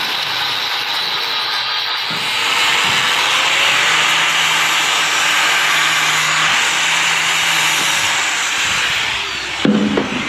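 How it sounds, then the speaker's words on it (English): A power tool cutting back stainless steel boat hand railings, a loud, steady whining grind that holds for several seconds and then cuts out near the end. "Just cutting these 2 railings back now so we can get our cornering"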